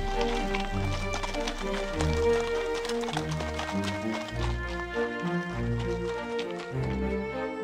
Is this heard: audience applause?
no